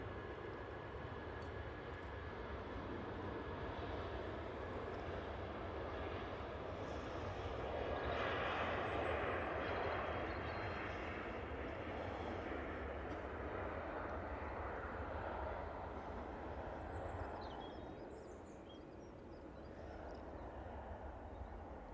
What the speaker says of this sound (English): we've got the British Airways shuttle going back to Heathrow